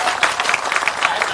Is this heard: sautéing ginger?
no